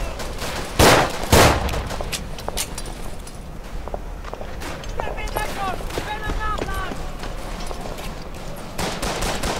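Gunfire in the First World War shooter Verdun, at Fort Deathtrap: two loud close rifle shots early, then scattered distant shots and crackling fire over a constant battlefield rumble.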